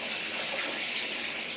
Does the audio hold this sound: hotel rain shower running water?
yes